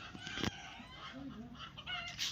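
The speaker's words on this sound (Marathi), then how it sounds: "त्या कोंबड्या वारटतात" Chickens cluck and squawk faintly in a noisy outdoor setting, short scattered calls with a distant bird chatter around them.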